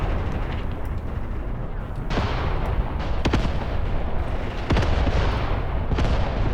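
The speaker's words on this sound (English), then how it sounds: "Here comes the incendiary. That's incendiary ammunition." Incendiary artillery fire in the Graviteam Tactics wargame, a continuous rumbling barrage of overlapping booms and crackling impacts with several sharper bursts standing out, loud and unbroken, with no talk.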